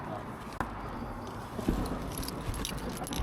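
Keys jangle and rustle while being dug out of an M&S bag, with a close, soft clatter and a sharp clink partway through.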